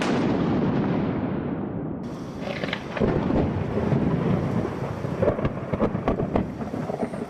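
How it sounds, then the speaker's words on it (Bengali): A heavy downpour pours outside, joined by loud, rolling thunder and deep rumbles that build and persist throughout, with no voices. "ঠিক তখনই ঝমঝম করে বৃষ্টি নেমে বসলো বাইরে"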